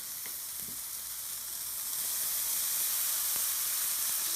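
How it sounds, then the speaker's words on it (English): A pork burger patty sizzles in a pan with a steady, close hiss that grows slightly louder partway through and carries a few faint pops and crackles. "Sexy sizzle action."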